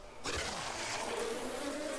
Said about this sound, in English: There's that thing that keeps throwing bees at me.